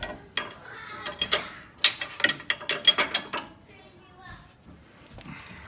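A wrench ratchets and clicks in short bursts while tightening a fitting during a steering box install on a Jeep JK Rubicon, close and metallic, with brief pauses between strokes.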